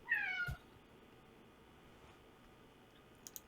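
A pet cat named Gucci lets out a single short, clear meow up close at the start, followed by near silence and a couple of faint ticks.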